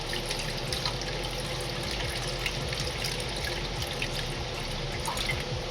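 Water dripping and trickling through holes poked in a bag to imitate rain, a steady close hiss of falling drops and running water that holds evenly throughout.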